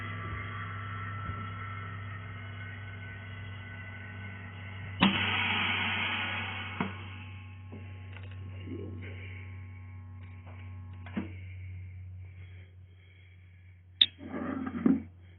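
Vacuum sealer machine running its vacuum cycle with a steady low electric hum and motor drone, a hiss near the middle, and a few small clicks and bumps toward the end.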